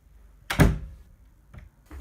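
A door in a home bumps shut with a single solid thunk, followed by a couple of faint softer knocks, close and alone without any voices.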